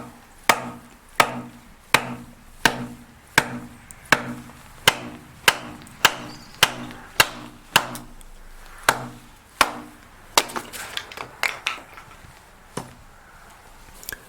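A Boker Arbolito El Gigante knife batoning and chopping wood: sharp, evenly spaced whacks land about every three quarters of a second, then give way to quicker, lighter irregular taps toward the end.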